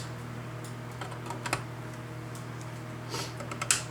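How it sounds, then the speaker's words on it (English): Component legs being trimmed with cutters during a repair of a 25-inch K7400 arcade monitor: a few faint, sharp snips scattered over a steady low hum, quiet and close. "Now, I'm gonna trim these legs off here."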